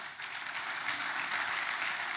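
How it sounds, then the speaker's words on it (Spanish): A church congregation applauds, a continuous wash of many hands clapping at moderate volume with no talk over it. "Denle un aplauso al papá de nuestro pastor."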